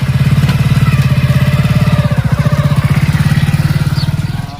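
A motorcycle engine runs close by with a loud, even, throbbing putter, holding steady through the clip and easing slightly at the end.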